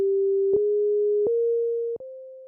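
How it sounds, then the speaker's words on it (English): A pure, smooth sine-like tone from a Hammond B3 organ in Logic Pro X, held steadily, stepping slightly higher three times with soft clicks at each change. "if I play it a bit higher up on my keyboard, you'll hear that it's kind of just a sine wave"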